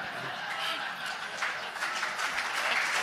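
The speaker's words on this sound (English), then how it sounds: "You're getting all the applause tonight" Audience applause at a town debate in Waterford, a fairly soft spread of clapping from a room that builds slightly toward the end, with some mixed-in murmur.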